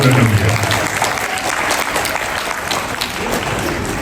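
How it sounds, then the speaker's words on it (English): A Queens audience at a Lunar New Year celebration claps steadily and loudly, a dense crowd applause with a brief low voice at the start and some faint voices mixed into the clapping. "Round of applause again to our Borough President,"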